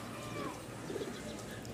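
Rajshahi colour-matching Giribaz pigeons cooing softly, a low murmur of coos running steadily through a short stretch with a faint chirp, no voices.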